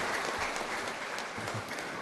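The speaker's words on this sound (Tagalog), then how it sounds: "Sino sa inyo ang lumalaki, pumalakpak ng malakas?" A church congregation at an evening Mass homily claps loudly, a dense, steady round of applause from many hands lasting a couple of seconds with no voices over it.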